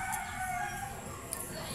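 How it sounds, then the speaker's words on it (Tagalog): Chickens kept in the yard in front of a rural home, with a rooster's crow and clucks rising faintly and briefly twice over steady background noise. "May mga manok."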